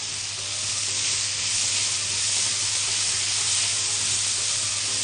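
Garlic fries with onion and spices in a pan for a meat tagine, making a steady, loud, close sizzle and hiss that holds without a break and with no voices.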